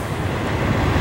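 A domestic freight train passes close by at an Ontario railway station, making a steady, loud rumble and roar of rolling cars with no pauses.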